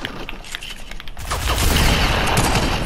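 Gunshots during a video game squad match, a rapid clattering burst of fire building into a dense, loud volley after a brief lighter stretch, with no talking over it.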